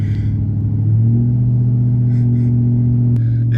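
A 2004 Dodge Ram 2500 5.7 Hemi pickup with muffler delete and dual exhaust rumbles deep and loud at close range, the engine note rising briefly as it revs, with a faint mechanical click.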